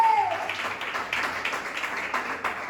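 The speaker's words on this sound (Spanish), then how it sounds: "Dale fuerte ese aplauso a Él que vive." Church congregation clapping at a sermon, a moderate wash of scattered hand claps sustained throughout, with a faint voice or tone at the very start.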